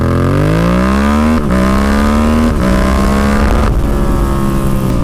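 A motorcycle fitted with a performance air filter accelerates hard from a standstill on an empty road. The loud, close engine note climbs through three quick gear shifts.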